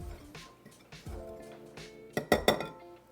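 Metal utensil clinking against a bowl while salt, baking powder and baking soda are mixed into flour for oatmeal applesauce raisin cookies: soft scraping at first, then a quick burst of sharp clinks near the end.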